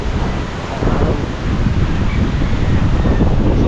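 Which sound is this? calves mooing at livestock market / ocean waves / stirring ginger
ocean waves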